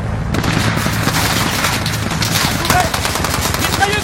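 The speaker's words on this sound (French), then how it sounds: "Mitrailleuse à 12 heures!" Sustained machine gun fire in the video game Call of Duty Modern Warfare, loud rapid bursts of shots over continuous battle noise.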